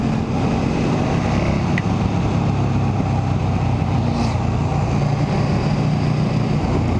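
A KTM 1290 Super Duke R motorcycle rides toward Mariazell, its engine a steady, loud droning rumble blended with constant wind roar throughout, no voices.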